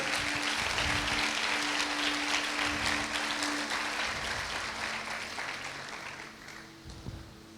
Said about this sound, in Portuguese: Você poderia ter aplaudido o Senhor por causa disso.